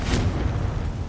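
Confringo blast curse going off in Hogwarts Legacy, a deep booming explosion with a quick burst at the start and a rumbling low tail that holds steady for about a second.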